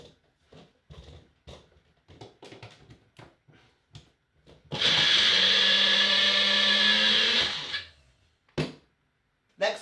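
A small kitchen blender runs loud and steady for about three seconds, a nut-free recipe batch with little inside, starting abruptly after scattered clinks and handling noises and cutting off before a few more knocks.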